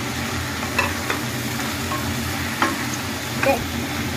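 Prawns go into tomato frying in a pan for a prawn chorchori, giving a steady close sizzle with a few soft clinks of a spatula against the pan.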